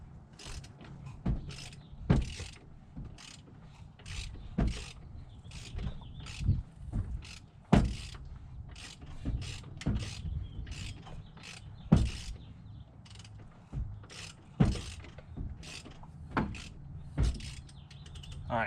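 A junk car engine is cranked over by its starter, giving a quiet, uneven mechanical churning with rhythmic creaks and clicks, heard up close.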